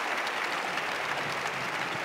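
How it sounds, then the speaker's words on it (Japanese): Dense applause and cheering fill Taipei Arena after a men's short program at the 2011 Four Continents figure skating championships, a continuous roar from a distant crowd. "そして台北アリーナ大歓声です"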